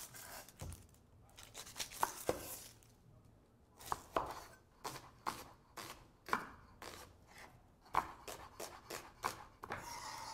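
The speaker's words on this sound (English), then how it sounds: "To start, I'm slicing one yellow onion thinly." One yellow onion sliced thinly with a knife on a cutting board, a quick series of crisp cuts in uneven bursts with short pauses, close and fairly quiet, no one speaking.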